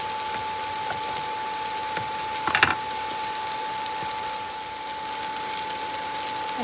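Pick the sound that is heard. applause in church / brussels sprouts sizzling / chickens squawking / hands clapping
brussels sprouts sizzling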